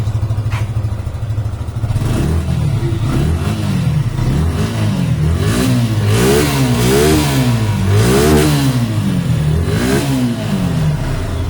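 A black Suzuki Gixxer SF FI motorcycle idles and then is revved repeatedly, its engine note rising and falling in several loud, close throttle blips.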